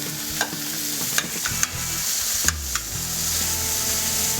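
Chicken sautés in a frying pan while being tossed, a constant loud sizzle broken by several sharp clacks of the pan and utensil, with no speech.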